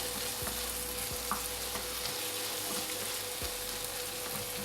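Tomatoes sizzle and fry steadily in a pan for a chicken sausage masala, a constant close hiss with a few soft stirring knocks and no speech.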